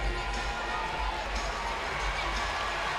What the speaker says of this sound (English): you hear the crowd sending out vocal encouragement even to a member of the opposition